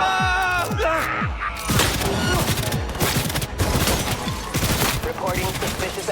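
Rapid bursts of gunfire in the video game Cyberpunk 2077, with dense, sharp shots rattling for several seconds after a short stretch of game sounds, loud and close.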